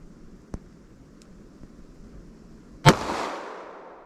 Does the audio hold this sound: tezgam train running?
no